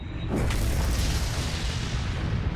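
A deep supernova explosion sound effect starts with a sharp burst, then a heavy rumbling roar that fills the low end and holds steady, loud, with no voices.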